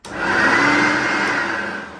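A 1996 Hoover Turbopower 1 direct-air upright vacuum cleaner runs with a steady, loud motor whine and rushing airflow as its paper bag inflates, continuous and close for two seconds with no talk.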